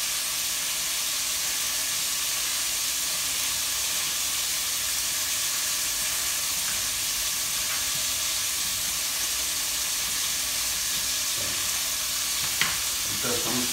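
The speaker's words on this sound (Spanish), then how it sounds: "Ahorita estamos cocinando el bacon." Bacon and chopped ham frying in a pan give a steady, close sizzle and hiss that runs throughout, with faint clinks of stirring near the end.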